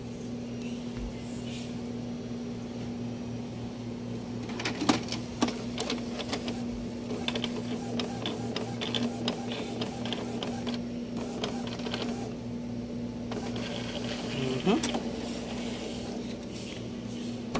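An inkjet printer runs off a test page after a head-cleaning cycle, giving a steady mechanical hum with a shuttling print head, rhythmic clicks and a few sharper clacks as paper feeds. It stays close and continuous, with no talking.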